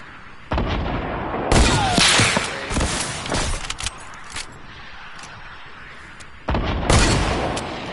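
Gunfire in a shooting video game, loud bursts of shots and booming blasts arriving in clusters with quieter gaps between, close and harsh.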